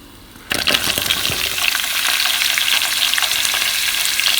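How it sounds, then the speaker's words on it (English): Chopped brinjal hits a hot pan with peanuts, urad dal and curry leaves for Vangi Bath, breaking into a sudden loud, steady sizzle with stirring scrapes near the start, then a continuous hiss. "Once the peanuts turned into golden brown, add chopped brinjal."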